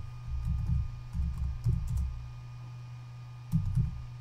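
Computer keyboard keys tapped in short bursts while a Facebook page name is entered, close and fairly quiet, with small clusters of clicks separated by pauses over a steady low hum.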